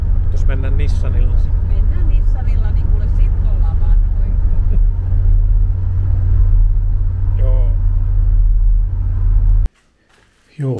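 Steady low engine rumble and road noise from a Nissan car being driven, with people talking inside over it; the drone cuts out abruptly near the end before briefly returning.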